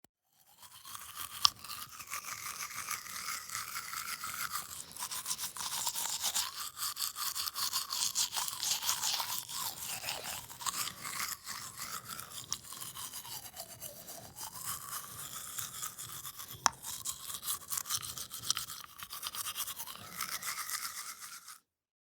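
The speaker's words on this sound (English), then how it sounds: "when you brush your teeth" Steady scrubbing of a toothbrush against teeth, close up, with wet bristly strokes that shift in pace for about twenty seconds and no talking.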